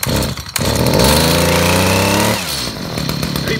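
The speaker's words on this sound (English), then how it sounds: "That's pretty much how you start a two cycle Stihl HS 45." A Stihl HS 45 two-stroke hedge trimmer runs loud and close with a steady buzzing engine note, revving briefly before settling to a lower idle.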